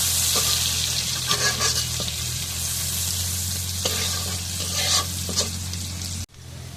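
Oil sizzles and fries in a cooking pan, a steady close hiss dotted with crackles and spits that runs unbroken before cutting off sharply near the end.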